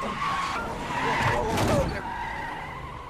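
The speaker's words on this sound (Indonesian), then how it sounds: "Mereka mengalami pecah ban saat di tengah jalan" A car skids and lurches at speed after a tire blowout in a film scene, with a sustained screech swelling toward the middle, traffic noise beneath and voices mixed in.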